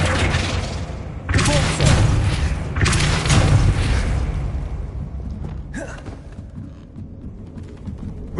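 A fire spell bursts out in Hogwarts Legacy on PS5, with several loud whooshing booms in quick succession against Devil's Snare, followed by a fainter swoosh and lingering rumble.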